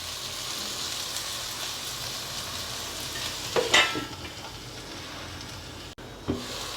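Onions frying in a pan for a curry, with a steady crackling sizzle close by and a couple of brief louder stirring bursts near the end.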